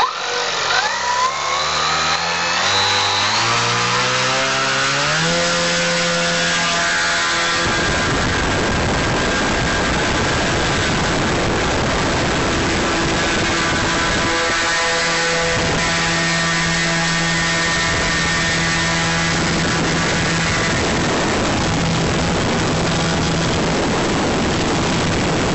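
A model aircraft engine spins a Xoar 24x10 WWI Series propeller, rising quickly from low revs to a loud, steady full-throttle drone. It holds that drone for over twenty seconds with slight pitch wavers, close and alone.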